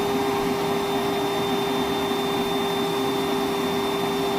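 Milwaukee M12 1.6 gallon wet/dry shop vacuum (0960-20) running on a 12-volt battery, a loud steady motor whine with constant airy rush and no variation throughout.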